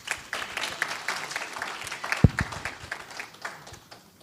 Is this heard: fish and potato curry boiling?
no